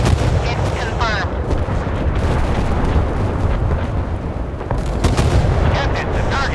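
Warship artillery fire in the naval battle video game Force of Warships, a loud, dense rumble of booming gunfire and blasts filling the whole stretch without letup.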